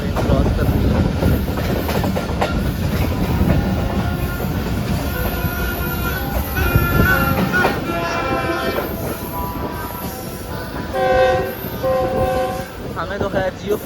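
Shalimar Express rolling slowly past the down platform of a station, a loud close rumble with rhythmic wheel clatter and repeated squealing tones, under faint voices.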